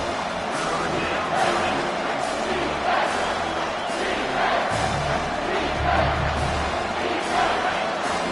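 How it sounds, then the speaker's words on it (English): A home crowd at an American football game roars steadily on a third down, a dense sustained swell of cheering and shouting with surges throughout. "Here comes this home crowd as the defense tries to get off the field on 3rd down."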